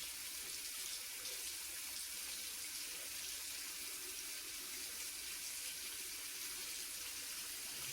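A faucet pours warm water into a sink in a steady, even hiss, close and unbroken, used for rinsing a German SG 98 bayonet during restoration.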